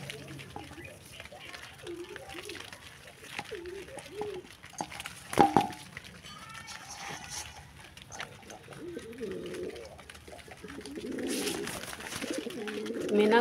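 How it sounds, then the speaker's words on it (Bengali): Pigeons at a pigeon farm coo in soft, low, repeated phrases throughout, with scattered patter and rustling nearby and a voice heard now and then. "মিনা খুব শিকারি কবুতর"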